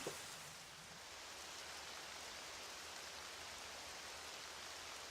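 Rain pours in the Zelda game Twilight Princess, a steady, even hiss of falling drops, faint and unbroken throughout with no speech.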